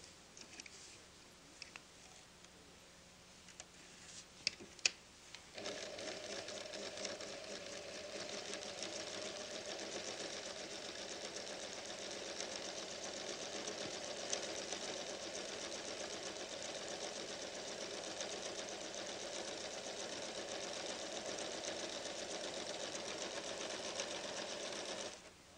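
A PFAFF creative 1475 CD sewing machine couches down cord, starting with a few soft clicks before settling into a long, steady stitching hum that runs alone at moderate volume.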